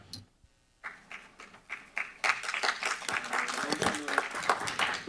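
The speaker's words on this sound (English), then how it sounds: "There's no applauding, folks" An audience at a Truckee planning commission meeting breaks into applause, starting with a few scattered claps and quickly building into loud, sustained clapping throughout the room.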